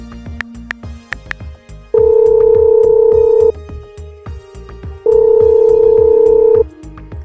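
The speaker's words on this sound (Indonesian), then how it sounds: "Waduh, istri saya nelpon nih." An incoming-call ringtone on a mobile phone sounds in repeated loud, steady electronic tone bursts with short gaps between them, close and clear, with no one talking over it.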